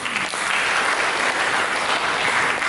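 A church congregation applauding during a sermon, a dense, loud wash of clapping that holds evenly for the whole stretch.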